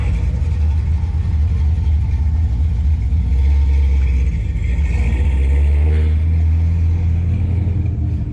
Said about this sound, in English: Some of the cars rolling in.